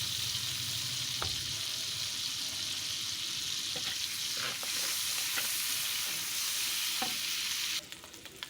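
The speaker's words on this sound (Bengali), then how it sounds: "আমি চাটুতে প্রথমে তেল দিয়ে দিলাম কিছু চিংড়ি, তারপরে লবণ ও হলুদ অ্যাড করে দিলাম।" Shrimp stir-fried in oil with salt and turmeric on a flat pan, a steady loud sizzle running throughout with a few scraping stirs, ending in a brighter hiss near the close.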